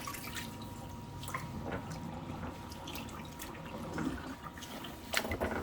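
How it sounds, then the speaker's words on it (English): Water poured out into a kitchen sink: a steady splashing, trickling stream with scattered drips and a louder gush near the end, close by and with no talking. "I'm going to pour this out in the sink."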